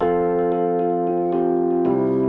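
Unprocessed Rhodes electric piano chords played plainly, with a sharp percussive click on each new chord; three or four sustained changes, alone with no talk.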